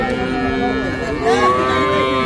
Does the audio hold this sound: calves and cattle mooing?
yes